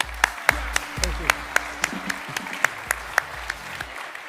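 A crowd at a general assembly claps and applauds steadily, with sharp individual claps standing out over a low murmur of voices nearby.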